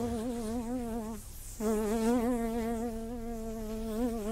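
A housefly buzzes close by in a French radio drama, a steady droning whine that briefly drops away and then returns, loud and alone with no talk.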